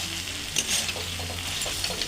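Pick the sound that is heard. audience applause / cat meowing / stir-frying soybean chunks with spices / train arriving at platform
stir-frying soybean chunks with spices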